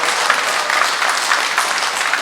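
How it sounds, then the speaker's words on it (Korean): Audience applause fills a monthly members' meeting hall, a steady dense clatter of many hands clapping at even loudness throughout, with no voices over it. "큰 박수"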